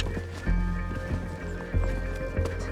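A horse's hooves thud in a steady, loud rhythm during a show jumping round at a young riders competition, with strong low strikes about every half second to second.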